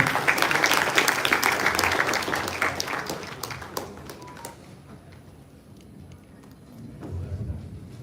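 An audience at a university IEEE event claps for an incoming director, brisk applause for about four seconds that dies away into quiet room noise, with a faint stir of sound near the end.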